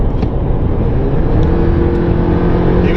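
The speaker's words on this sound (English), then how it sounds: "Even the engine, when you rev it's not like loud." A truck engine revs close by, a short loud rising roar that holds steady for a few seconds without any talk.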